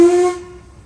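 A steam locomotive whistle at a heritage railway gala on the Strathspey Railway gives one loud, steady sustained blast that cuts off and fades into a hissing tail.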